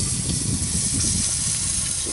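Spicy potatoes frying in a pan at a campsite, a steady loud hiss and crackle of hot oil, close and unbroken for a couple of seconds.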